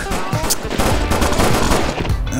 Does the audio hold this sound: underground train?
no